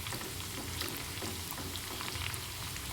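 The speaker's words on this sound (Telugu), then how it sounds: "ఇది మంచి కలర్ వచ్చే వరకు ఫ్రై చేసుకుందామండి." Curry leaves, dried red chillies and crushed garlic frying in hot oil as a tempering for tomato chilli pickle, a dense, even, rain-like sizzle heard up close without talk.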